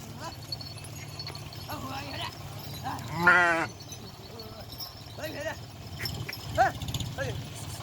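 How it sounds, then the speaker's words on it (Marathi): A flock of sheep moves about at pasture in a rural field, with a bleat-like animal call and scattered hoof sounds over a steady outdoor hum, while people talk nearby. "किती मेंढ्या आहेत"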